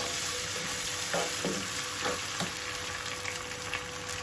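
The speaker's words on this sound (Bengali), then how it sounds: "রসুনটা একটু নাড়াচাড়া করে নিই" Garlic fries in oil while being stirred for a wood apple pickle, giving a steady close sizzle with a few scraping stir strokes across the pan.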